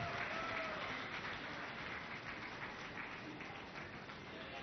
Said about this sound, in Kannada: ಜೋರಾದ ಚಪ್ಪಾಳೆ ಪ್ಲೀಸ್